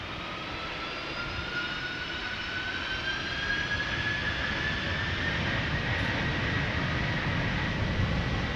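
A Delta Air Lines Airbus A330-300 departing Amsterdam Schiphol for Atlanta, its jet engines holding a steady, fairly loud roar with a faint rising whine throughout.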